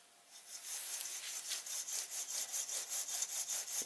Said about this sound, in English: I just thought I'd show you this little jeweler's saw.